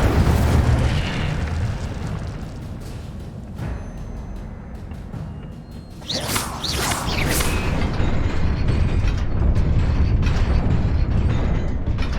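A fire spell cast in the video game Hogwarts Legacy: a loud, whooshing burst of flame erupts partway through over a steady rumbling game backdrop, followed by sustained roaring crackle.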